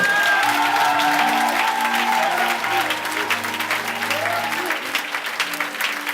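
A church congregation applauds and cheers together in a dense, sustained burst of clapping, loud and close, with voices rising through the crowd noise.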